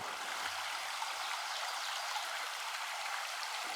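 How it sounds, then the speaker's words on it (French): The small North Branch brook flows steadily with a continuous, close, even rush and burble of water, with no voices over it. "c'est un très beau petit ruisseau"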